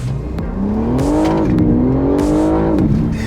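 A car accelerates hard at full throttle, the engine note climbing and shifting through rising revs, loud and close with brief dips between pulls.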